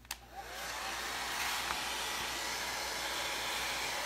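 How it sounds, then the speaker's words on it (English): A blow dryer drying stamped wood coasters roars steadily and loudly after a brief click on, its broad airy whoosh holding constant throughout. "So I'm just going to hit these with a blow dryer."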